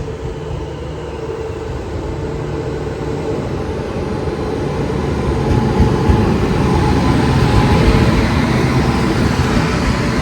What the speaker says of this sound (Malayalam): മുംബൈ CSMTന്ന് മംഗലാപുരം പോകുന്ന സൂപ്പർ ഫാസ്റ്റ് ആണ് ഈ പോകുന്നത് കേട്ടോ.